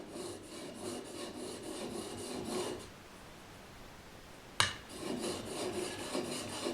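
A hand plane blade rasps over a sharpening surface in quick back-and-forth strokes, a run of rhythmic passes, a short pause ended by a sharp knock, then another burst of passes.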